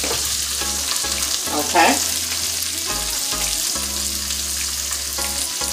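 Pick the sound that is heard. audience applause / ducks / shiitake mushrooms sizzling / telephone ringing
shiitake mushrooms sizzling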